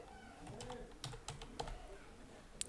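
Keystrokes on a computer keyboard as a label name is typed, a quiet, irregular run of soft clicks with a few sharper taps near the end.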